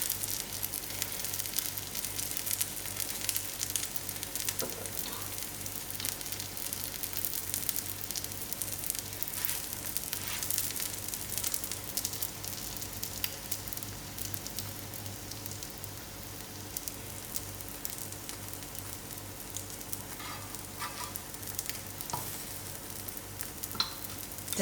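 Stuffed lamb mince roti frying in an oil mixture in a pan gives a steady, soft sizzle that carries on unbroken at a low level, with light stirring or scraping now and then and no talking.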